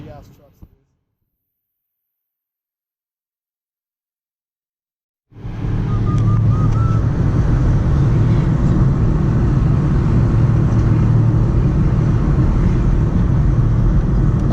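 A big truck engine rumbles low and steady after a few seconds of near silence, holding a constant heavy drone near the listener on a town street in Big Bear Lake, California.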